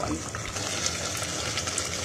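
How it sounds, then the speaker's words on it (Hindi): Water poured into a cooking pot of spiced meat and okra curry, a steady broadband splashing and gushing that runs for the whole two seconds at moderate level, with no voices. "पानी ऐड करने का टाइम आ गया, पानी मिलाने का टाइम आ गया।"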